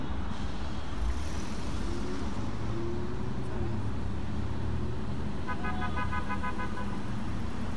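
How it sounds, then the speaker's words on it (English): Car horns honk on a busy city street near a Pollo Loco during a street protest, a few toots and a short repeated beeping standing out over steady loud traffic rumble. "I saw all the honking and the horns"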